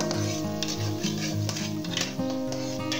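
Chopped garlic stirred into frying masala in a pan while cooking kaleji pota, giving a steady close sizzle with scraping stirs and a faint tonal hum in the background, no talk.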